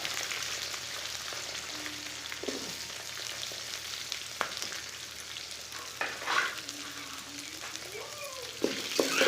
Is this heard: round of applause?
no